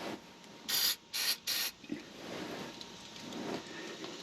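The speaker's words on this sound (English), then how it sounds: "spray right on them threads on the bottom of your U-bolts" Three quick hissing bursts of penetrating oil sprayed from an aerosol can onto U-bolt threads, close by, with short pauses between them, followed by quieter handling noise.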